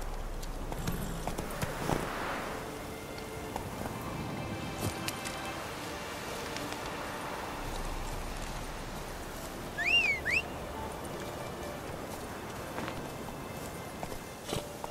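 Hooves of the horse Roach in The Witcher 3 clop steadily across the ground in soft, even footfalls, with faint ambient bird chirps and a brief louder bump partway through.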